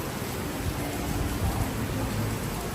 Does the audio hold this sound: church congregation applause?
no